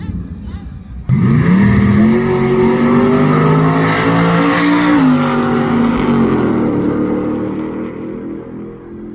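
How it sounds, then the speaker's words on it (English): A supercharged Hellcat-swapped Jeep SRT8 launches and accelerates hard down a drag strip at a Mopar Day event, its engine roaring loud and close as the pitch climbs steadily, with a faint tire squeal before the sound fades slightly. "first track day with the Hellcat Supercharged Jeep SRT8"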